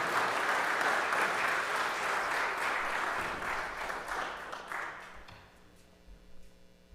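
A church congregation claps for newly welcomed members: a dense, even burst of applause that holds for several seconds, then thins and fades into quiet room tone.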